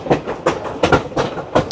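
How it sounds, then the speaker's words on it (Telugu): A passenger train on the way to the Grand Canyon in America clatters over the rail joints with close, rhythmic clickety-clack beats in loose pairs, heard alone. "ఈ ట్రాక్స్ ఈ ట్రైన్ సౌండ్ వస్తుందా టప్ టప్ టప్ టప్ టప్ టప్ టప్ టప్ అని ఆ సౌండ్"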